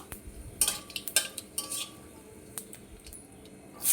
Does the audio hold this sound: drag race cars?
no